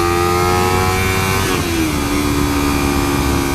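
A Kawasaki Ninja 300 fitted with a 15-tooth front sprocket pulls hard in first gear, its engine note climbing loud and close, then dipping and settling into a steadier hum partway through.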